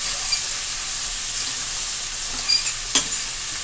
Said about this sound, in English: Sorry for the noise with the fork